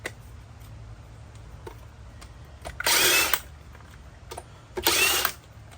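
A power tool spins wheel lug nuts off during a brake rotor job, with two loud, short whirring bursts a couple of seconds apart amid quiet shop background and light ticking.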